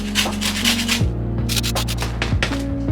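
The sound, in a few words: zesting a lemon into cake batter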